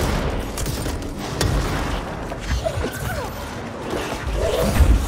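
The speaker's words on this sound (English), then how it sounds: "Oh my god, they're shooting at me!" Enemy gunfire in the video game Control: a dense, steady clatter of rapid shots with metallic crashes and mechanical rattles, loud and close, nearly continuous over a constant background roar.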